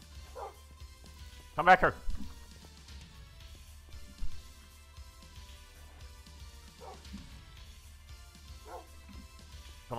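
Dogs in the video game Dwarfs vs. Zombies bark and yip in several scattered bursts, the loudest a sharp volley early on. A player talks over the barking.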